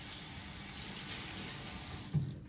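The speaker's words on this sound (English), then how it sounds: "So all of this gets all washed at the sink." Water running at a sink while pottery tools and a sponge are washed, a steady soft rush with a small splash near the end.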